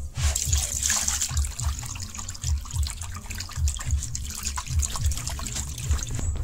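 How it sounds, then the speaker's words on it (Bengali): Water is poured over curdled milk to rinse it while making kalakand, a steady trickle and splash that carries on without a break throughout, close and moderately loud. "এটার জল দিন, এখন জল দিয়ে ভালো করে দই নিতে।"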